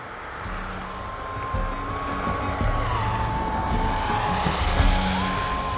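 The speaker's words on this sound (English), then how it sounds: "Surprising amount of traffic for a country road." Cars passing on a country road beside an abandoned schoolhouse, a steady wash of tire and engine noise at moderate distance, swelling slightly as vehicles go by, with no talk.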